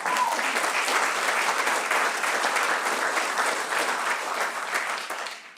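A large audience at a Martin Luther King Jr. remembrance event applauds steadily for the attending officials. The sustained, dense clapping runs nearly six seconds before tapering off at the end, with no speech over it.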